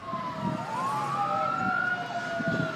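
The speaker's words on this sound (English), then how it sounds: "Witnesses video here show the deputy, Robin Hopkins, being loaded in an ambulance." Wailing emergency siren of an ambulance at a police shooting scene, a steady rising and falling tone heard from some distance over low street rumble, with no talking.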